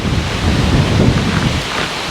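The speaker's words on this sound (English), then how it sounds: "because it is very windy out there." Strong wind gusting outdoors by a garden and greenhouse, a loud, steady broadband roar with buffeting rumble against the microphone throughout, no voices.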